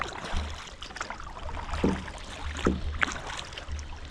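A kayak is paddled with a wing paddle at zero feather in easy strokes: soft water splashes and drips recur over steady wind and flowing-water noise outdoors.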